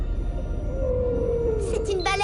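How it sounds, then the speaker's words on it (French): A whale sings in the Adibou Aventure video game, a long, clear, slowly falling tone over a steady low rumble, followed by short warbling calls at the end. No one speaks. "C'est une baleine."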